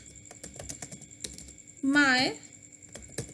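Keys click on a computer keyboard in quick, irregular taps at close range, with a short spoken word partway through.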